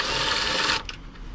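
A power drill fitted with a 10mm socket spins out fairing screws on a 2020 Yamaha R1, whirring steadily and loudly for most of a second before cutting off, leaving a quieter tail.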